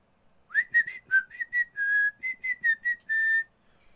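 A person whistles a quick, lilting little tune imitating a pixie, about a dozen short chirpy notes with a couple of held tones, clear and close with no talking.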